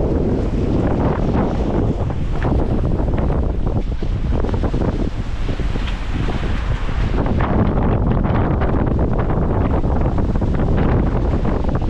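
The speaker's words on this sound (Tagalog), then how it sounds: "May sipol lang hangin." Strong wind roars and gusts over the sea near a fishing boat stopped by a typhoon, a loud, continuous buffeting rush hitting the microphone with a faint whistling edge.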